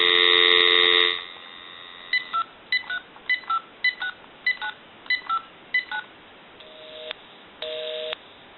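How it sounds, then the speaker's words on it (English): Dial tone and a run of short keypad tones from a General Electric 6.0 cordless telephone: a steady tone cuts off, followed by about a dozen evenly spaced dialing beeps, then two longer separate tones, close and clear. "Give you some dial tone."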